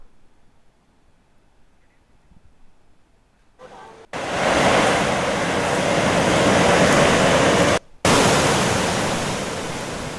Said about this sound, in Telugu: పాడేరులో జలపాతాలు ఉధృతంగా ప్రవహిస్తున్నాయి